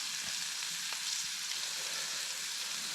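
Partly frozen pieces fry in a pan of steak juices at a subzero camp in remote Alaska, giving a steady, close sizzle with faint crackles and no talking.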